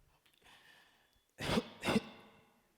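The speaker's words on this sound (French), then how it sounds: "Excusez-moi, j'ai la toux." Two short, close coughs in quick succession after a brief quiet stretch of faint background noise.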